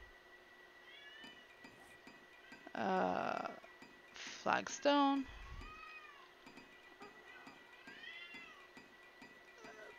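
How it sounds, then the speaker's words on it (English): A pet cat meows a few times indoors, short mid-pitched cries rising and falling over a steady background hum, while someone speaks briefly during a game livestream. "You hear the cat meowing?"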